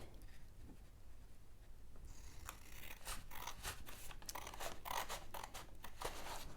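Scissors snip through card along a straight line for a pop-up card, a run of short crisp cuts that grows steadier and louder after a quiet start, close and clear with no talking.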